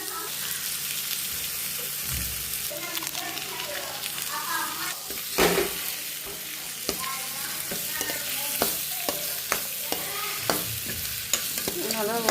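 An egg mixture fries in a pan with a constant close sizzle, punctuated by repeated scraping and tapping as a spoon stirs it, with a brief voice partway through.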